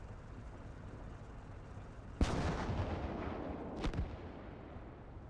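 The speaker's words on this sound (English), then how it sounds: "one gun fired. I think they're doing some range correction and whatnot." An artillery gun fires in the Gates of Hell video game during a snowy convoy ambush, one sharp loud blast cutting through a low battlefield rumble, followed by a second shorter bang.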